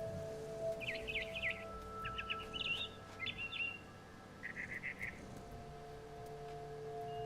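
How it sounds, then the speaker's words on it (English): Short bursts of high, bright swallow chirps from a video game, What Remains of Edith Finch, in several quick clusters over a steady hum, with pauses between the twittering phrases. "Then I heard chirping outside my window."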